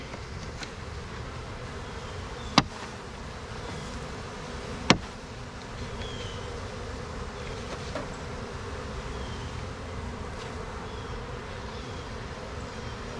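Honey bees buzz steadily around fresh comb in a close, constant drone, with a couple of sharp clicks or taps standing out briefly over the hum, and no voices.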